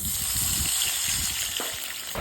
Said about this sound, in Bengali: এখন দিয়ে দিব সামান্য পরিমাণ পানি